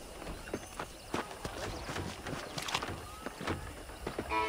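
Hooves clip-clop on a horse in Red Dead Redemption 2, a quiet, uneven run of separate thuds and clops at close range with faint background noise.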